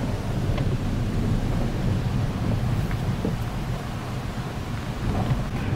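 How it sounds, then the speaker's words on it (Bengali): Waterfall near Dudhia bridge in North Bengal roars as a steady, dense rushing wash, constant and fairly loud throughout with no voices. "আস্তে আস্তে শুনতে পাচ্ছেন ঝর্ণার আওয়াজ, শুনুন।"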